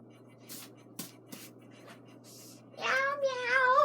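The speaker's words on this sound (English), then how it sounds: "That was my cat." Soft scattered taps and rustles in a home bedroom, then a pet cat lets out a clear rising meow near the end, close and moderately loud.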